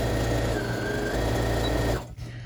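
Loud, steady hum of a sewing machine running close by while chain piecing tote bag corners, then stopping abruptly near the end, with no voices.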